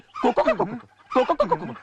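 A human voice imitates a hen clucking in two short, bouncy bursts of clucks, close and fairly loud, with a brief pause between them.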